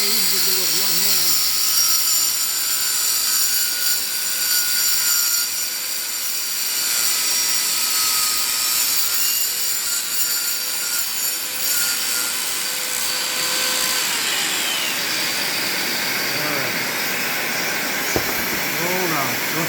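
A plunge saw cuts through wood with a continuous, loud, rough buzzing roar that lasts throughout, with slight surges in intensity and no clear pauses.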